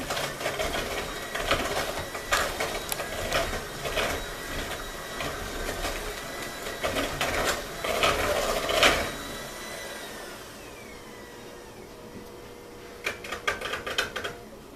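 An electric mixer beats strawberry cake batter with a rattling, whirring motor in uneven pulses. It stops for a few seconds, then gives a short final burst.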